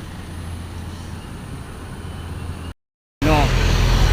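A heavy loaded truck labors up a steep mountain climb, its engine drone continuous and close with road noise, broken by a brief gap, then louder as voices talk over it.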